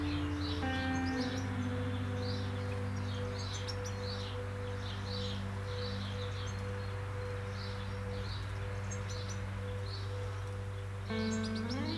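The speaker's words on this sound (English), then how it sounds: "the young goldfinch there is just asking its parent for a bit of" A young goldfinch in a back garden gives repeated thin begging chirps in short bursts, faint and somewhat distant, over a constant low electrical hum.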